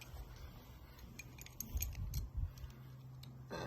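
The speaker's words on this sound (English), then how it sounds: "So we'll take a 13mm socket here." A 13mm socket wrench loosens crash bar bolts on a damaged Honda CR-Z, giving faint, quick ratcheting ticks over a low background rumble, with a brief knock near the end.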